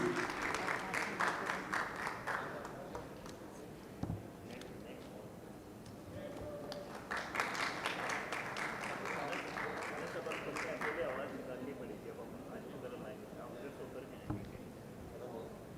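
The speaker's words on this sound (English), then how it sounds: "A huge round of applause for Ms." Audience applause rings out at a Dell-themed corporate event on stage, sustained clapping swelling in two broad waves with a short lull between, while a host's amplified voice talks over parts of it.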